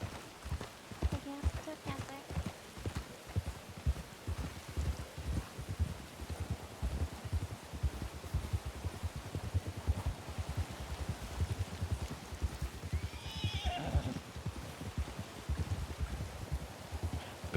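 Horse cantering in Red Dead Redemption via RedM, steady rhythmic hoof thuds with rustling and a rain-like hiss, while people talk over it.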